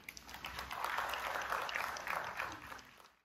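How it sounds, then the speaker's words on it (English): A lecture audience gives a warm round of applause to a speaker introduced for a talk on niche marketing, a soft, fairly distant wash of clapping that swells, holds for about two seconds, then fades out. "let's give a warm round of applause to Mr. Francis Sinonen"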